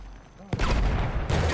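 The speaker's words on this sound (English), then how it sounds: "A lot of grenades coming in on him." Grenades exploding during a platoon championship match in a shooter video game: a sudden loud blast erupts after a quiet moment, then a dense, roaring burst of explosions and gunfire continues close by.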